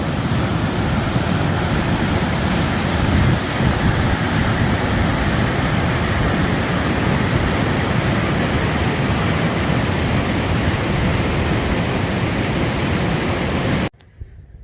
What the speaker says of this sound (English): Water's been falling a couple thousand feet.